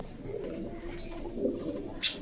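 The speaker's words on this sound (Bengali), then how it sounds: "সিরাজি কবুতর" Sirazi pigeons cooing at a pigeon shop, a steady run of soft, throaty coos close by with a few faint chirps and a brief rustle near the end.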